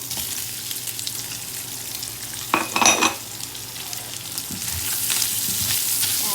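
Onions frying in rendered bacon fat for spaghetti carbonara give a close, steady sizzling hiss throughout, with a brief louder crackle as they hit the hot fat.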